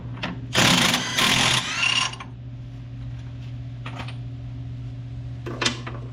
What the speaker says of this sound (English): we got to undo the draw bolt on the brake actuator